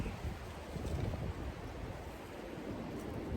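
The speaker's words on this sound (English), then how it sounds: "the wind is just awful today" Strong wind on a hike buffets the microphone in rough, rumbling gusts, a loud close blustering noise that rises and falls throughout with no talk.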